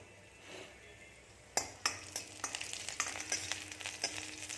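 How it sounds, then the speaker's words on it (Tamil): Mustard seeds, garlic and chili are tempered in hot oil for a herbal rasam, giving a steady sizzle. Sharp spattering pops and stirring clinks follow at close range, with no talk. "எண்ணெய் காஞ்சிச்சு, கடுகு போட்டாச்சு, பூண்டு போட்டுக்கலாம்."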